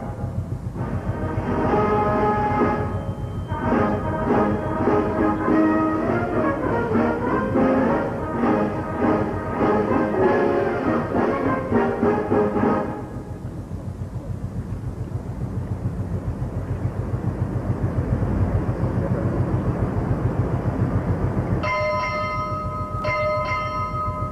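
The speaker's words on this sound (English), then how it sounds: "They're all arriving right now, as you can hear by the bells." Ship's bells ring out arrivals at the U.S. Navy decommissioning ceremony for the aircraft carrier USS Saratoga, a quick rhythmic series of clear strikes over outdoor wind and crowd ambience, then a pause before a fresh set of rings begins.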